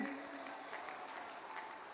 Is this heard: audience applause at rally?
yes